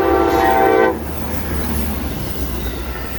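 EMD locomotive passing with a loud horn blast that cuts off after about a second, leaving a rumbling rail roll and wheel noise underneath, no talk.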